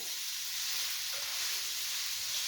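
Alfredo sauce sizzling steadily in a pan while being stirred, a close, continuous bright hiss with no voices.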